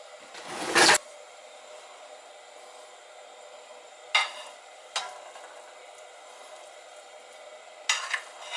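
Chorizo and hamburger meat fry in a pan with a steady, close sizzle, broken by a few short, louder bursts of stirring and scraping.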